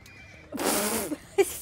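A horse in Assassin's Creed Origins gives a brief, close neigh, followed by a couple of soft hoof thuds.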